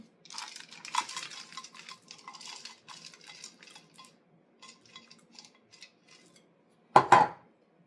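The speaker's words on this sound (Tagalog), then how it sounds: "Ihalo nyo dito ng mabuti yung chocolate." Spoon scraping and clinking against a bowl while white chocolate is stirred into peanut butter cookie dough, a steady series of soft scrapes and taps, ending in one louder clank.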